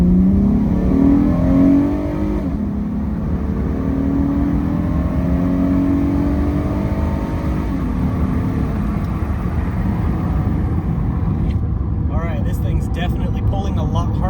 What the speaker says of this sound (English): I'm going to go ahead and do the 0 to 60 now that we got heat in it.